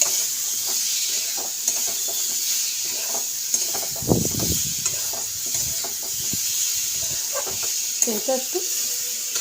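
A Bengali spice mixture with two green chillies fries in a pan for posto-sorse dish, a continuous close sizzle with scraping spatula strokes and occasional knocks, while someone speaks briefly over it.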